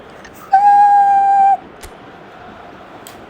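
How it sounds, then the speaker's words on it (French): A single referee whistle blast in an eFootball match, one steady shrill tone lasting about a second and standing clear above low crowd ambience, followed by a few faint clicks. "Là il va siffler l'arbitre"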